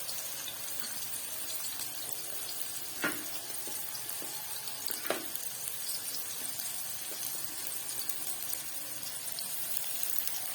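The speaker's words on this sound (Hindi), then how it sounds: "प्याज को हम करेंगे हल्का सा ब्राउन।" Onions sizzle in hot oil in a pan while an Aloo Matar (potato and pea curry) is being made, giving a steady, soft frying hiss with a couple of faint clicks.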